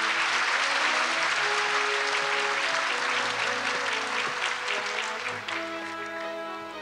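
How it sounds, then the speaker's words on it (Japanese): Award ceremony audience gives sustained, loud applause for a Studio Ghibli producer's special prize, the dense clapping gradually thinning toward the end while background music tones play beneath. "どうぞ皆さん大きな拍手をお送りください。"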